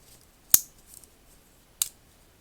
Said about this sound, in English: The scissors are not locking